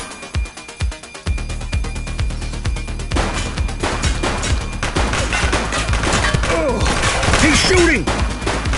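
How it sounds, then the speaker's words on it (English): Sustained gunfire from a police shootout in The Precinct video game, dense bursts of shots under game music and a voice, starting faintly then rising into loud continuous firing. "He's shooting!"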